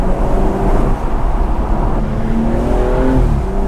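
BMW M235i driven hard on wet back roads, its engine revving loud and close from onboard, rising and falling in steady pulls without a break.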